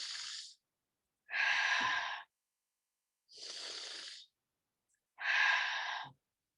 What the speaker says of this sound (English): We inhale.